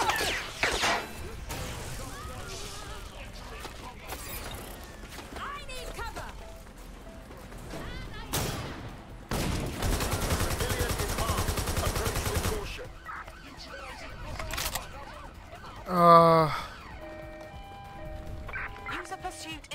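Gunfire and crashes from the video game Watch Dogs Legion, with scattered shots, a dense sustained burst in the middle and a loud impact later, mixed with game character speech.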